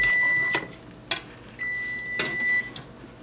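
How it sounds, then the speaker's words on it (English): Kitchen oven timer beeping in steady, sustained electronic tones, two long beeps separated by a pause, with clattering knocks of dishes or handling noises in between and no speech. "Oh, no shit, it's a timer."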